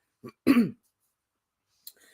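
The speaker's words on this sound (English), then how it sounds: "It's time for me to get my throat cleared out" A person clears their throat in one close, forceful rasp, preceded by a short breathy onset and followed by a faint click and light rustle, with no speech.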